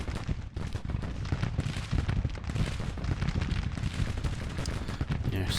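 Continuous battle din in the Civil War strategy game Grand Tactician: The Civil War, with dense, overlapping booms of cannon and musket fire rumbling on without a break. The fire is loud and sounds moderately distant.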